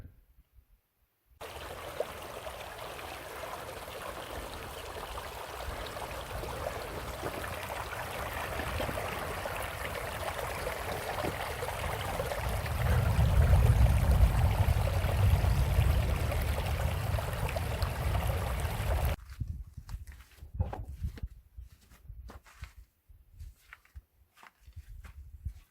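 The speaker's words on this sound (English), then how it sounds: "Our creek is running." A creek in the Arizona high desert runs full after torrential downpours, giving a steady broadband rush of flowing water that swells louder midway, then cuts off to near silence with faint scattered sounds.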